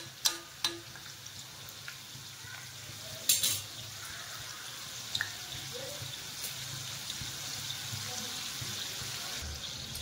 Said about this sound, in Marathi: आपण असं तळून काढायची, चांगलं चांगलं कडक होईपर्यंत तळायचं याला